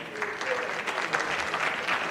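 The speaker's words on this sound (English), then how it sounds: "Give yourselves a round of applause." Sustained audience applause fills a mayoral debate hall in Wilmington, a dense, steady wash of many hands clapping at moderate distance, with a brief voice faintly beneath it.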